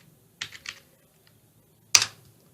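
Someone types a single word on a computer keyboard: a few crisp, close keystrokes in two short bursts, then a louder final key tap after a pause, with quiet between.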